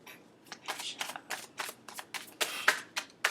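Tarot cards being shuffled by hand in a quick, chaotic series of riffling bursts, close and moderately loud, about a dozen crisp rustles over a few seconds with no talk.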